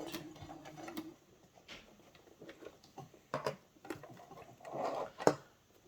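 A sewing machine top stitches bias tape with metallic thread onto a vest, running slowly in short stitching bursts with small clicks and pauses between them, fairly quiet and close.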